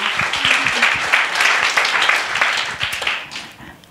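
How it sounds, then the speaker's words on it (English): A church congregation bursts into warm, dense applause during a morning service, sustained clapping with a few low thumps that tapers off toward the end. "Let's give God a clap."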